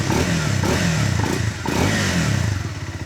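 A Triumph Scrambler 400X motorcycle fitted with a Yoshimura exhaust revs loudly and close by. The engine roars steadily with rising and falling throttle blips and dips briefly midway before surging again.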